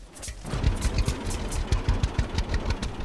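Tractor engine in the farming game Farmers Dynasty, idling with a rapid, even chugging pulse that kicks in after a brief quiet start and runs close and steady throughout.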